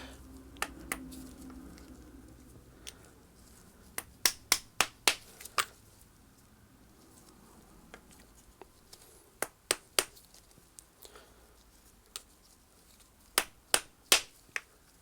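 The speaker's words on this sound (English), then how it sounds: "give this just a few taps to try and reseat that" A Shimano Deore FH-M525 freehub body is tapped to reseat it in the hub: sharp metallic taps in small irregular clusters, about a dozen strikes spread over quiet pauses.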